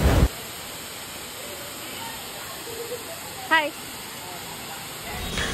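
A monsoon waterfall near Pune gives a steady broad rushing roar that fills the scene, constant and unchanging, with a brief chirping sound midway.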